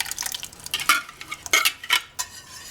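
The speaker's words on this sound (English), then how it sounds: "give it a quick stir until you have all your ingredients incorporated" A whisk clinks and scrapes around a pot as a carrot mixture is stirred into thickened creamy carrot soup, several quick sharp metallic strokes close by, with no speech.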